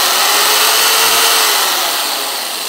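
A Hyundai J-800 Expert electric jigsaw runs at maximum speed with pendulum action, making a loud, steady, high-pitched motor whine that holds constant throughout and fades very slightly at the end.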